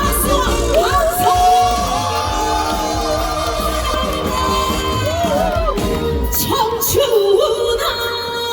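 Crowd at the Bonghwa sweetfish festival cheering and shouting in a dense, loud wash of voices, with whoops rising over the noise.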